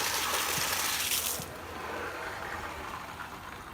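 Water gushes into a tank from a submersible pump line, first as a loud broad rush that abruptly drops after about a second and a half to a softer, steady flow and trickle.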